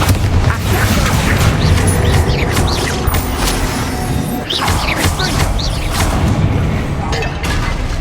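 Confringo and Bombarda blasting spells go off in Hogwarts Legacy as a rapid, loud series of booming impacts and crashes, with debris rattling between the bursts.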